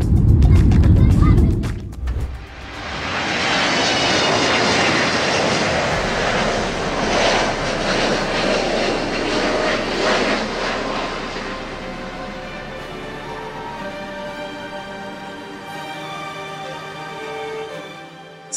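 A loud thump opens before a jet airplane's engines roar and whine, the noise slowly winding down to a fading, tonal hum as it slows.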